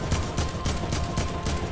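Rapid bursts of gunfire in a Fortnite match, repeated shots in a quick rhythm over a noisy game mix, steady and moderately loud throughout the short span.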